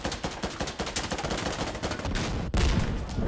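Rapid machine-gun fire in Insurgency Sandstorm, a fast, loud string of shots followed by a heavier close burst after a brief break, with no talking.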